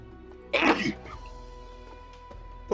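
A single sharp, loud sneeze bursting out near the mic, followed by quiet room noise and a faint voice.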